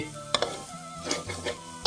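A metal spatula scrapes and clanks against a wok as food stir-fried with oyster sauce sizzles, in quick irregular strokes close up.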